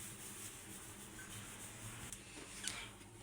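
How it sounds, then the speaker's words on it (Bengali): Steady, faint rubbing and scraping sounds come from kitchen wall tiles being scrubbed clean where cooking grime has built up. The scrubbing is quiet and continuous, with no voices. "আমি একটু টাইলসগুলো ঘষে নেবো"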